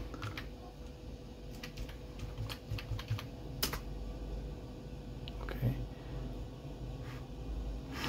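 Typing on a computer keyboard at a Linux multiseat workstation, scattered quiet keystrokes in short clusters over a steady background hum, fairly faint.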